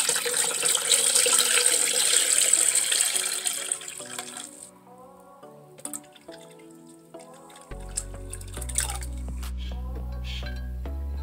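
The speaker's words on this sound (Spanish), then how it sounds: "ahora vamos a agregarle lo que es 1 litro de agua" Water pours in a loud, steady splashing stream into a homemade strained oat drink, then stops, leaving scattered drips and small clinks of a container, fairly close and without any voices.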